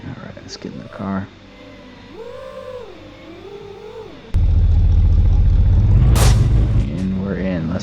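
A car engine in the Uncrashed FPV video game roars in suddenly partway through as a loud, sustained rumbling rev, after a quieter stretch with a voice talking.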